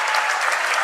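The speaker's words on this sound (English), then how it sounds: "Listen to the crowd." A crowd applauds loudly after the final score of a high school boys basketball game between Dover-Sherborn and Shawsheen Valley Tech, a dense, continuous burst of clapping.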